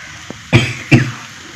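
Two sharp coughs about half a second apart, close and fairly loud, preceded by a tiny click, then quiet.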